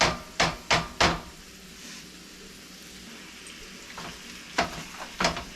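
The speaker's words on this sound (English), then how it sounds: "So we're going to brown the meat." Lean hamburger meat browning in a pan, a soft steady sizzle beneath several sharp scraping clatters of a utensil stirring and breaking it up, clustered near the start and again toward the end.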